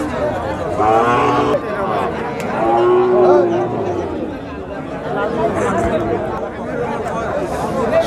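A calf moos at a cow market where Friesian, Australian and Sahiwal cross cattle are sold, loud drawn-out bellows near and far over a constant crowd chatter of voices.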